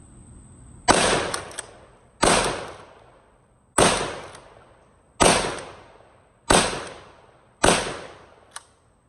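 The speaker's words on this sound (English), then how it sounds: "Shotgun, 5 rounds." A cheap Walmart shotgun fires six loud, close blasts at roughly even intervals, each a sharp crack trailing off in a short echoing decay, with no talk.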